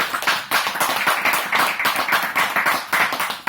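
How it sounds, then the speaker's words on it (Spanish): A small audience at a book presentation claps for several seconds, a fairly close, rhythmic patter of many hands with slight surges and dips, ending abruptly. "darle un fuerte aplauso a Ángel"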